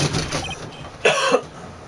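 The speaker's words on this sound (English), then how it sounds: "Maybe I should clear my throat." A video game character in the Phoenix Wright courtroom trilogy clears their throat with one brief, gruff, cough-like burst that stands out over steady game background sound.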